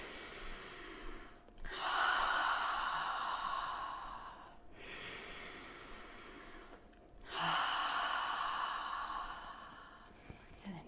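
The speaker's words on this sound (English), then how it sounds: "Three breaths, breathing in the nose" Slow breaths during a yoga warm-up, drawn in through the nose and released out the mouth, come as long airy whooshes with brief pauses between them, quiet and close.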